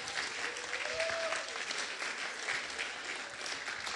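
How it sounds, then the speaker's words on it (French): Steady, dense applause from an audience at a French-language event, filling the whole stretch at moderate level with a brief whistle-like tone partway through. "je vous demanderai de les applaudir chaleureusement"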